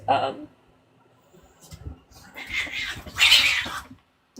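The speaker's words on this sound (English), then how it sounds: "The cats are freaking out." Two house cats yowling and caterwauling in agitation, loud drawn-out cries in bursts with pauses between, close by, while a person talks to them.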